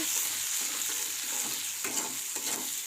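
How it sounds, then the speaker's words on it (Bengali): Chopped onions and green chilies fry in a pan. A dense, close sizzle carries on under the rhythmic scrape of stirring. "পেঁয়াজটা একটু ভেজে নেব"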